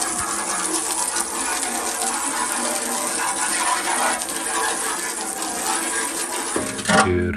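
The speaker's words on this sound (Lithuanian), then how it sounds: "Dar kartą nuplaunu tekančiu vandeniu." Running water splashes steadily over a metal lawn tractor mower deck during rinsing after rust removal, with light metallic clinks and rattles throughout and no speech.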